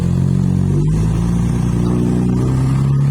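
A car revs hard and pulls away in a loud, sustained engine roar that holds steady throughout, the first car launching at a horn-and-car show event, with no voices heard.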